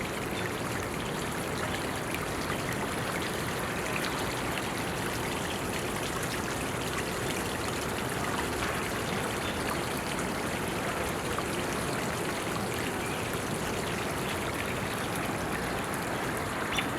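A waterfall pours into a pond in a nature sanctuary, making a steady, even rush of splashing water that stays constant and close for the whole stretch.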